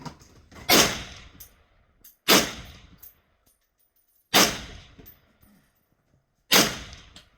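Four loud, sharp shots from an Armalite AR10B rifle, spaced a second or two apart, each followed by a short ringing decay, with near silence between them.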